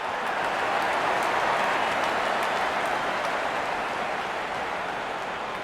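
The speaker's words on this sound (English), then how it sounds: "And there comes the celebration, and the crowd loves it." Stadium crowd in the cricket video game Real Cricket 24 roaring after a batsman is bowled, the ball dragged onto the stumps; a dense, steady wash of cheering and applause holds at full level throughout.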